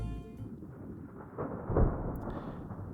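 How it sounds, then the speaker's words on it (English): A thunderstorm rumbling overhead, a low, muffled roll that swells briefly and fades within a few seconds, distant and soft, with no voices. "I think I can hear a storm above our heads clear as day"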